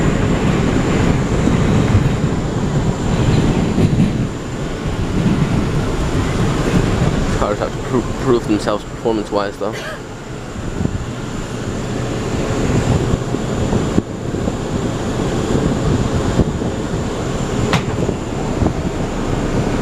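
An R179 subway car running on New York's A line, the steady low rumble and rattle of wheels on track filling the cabin throughout, with a passenger's voice talking over it partway through.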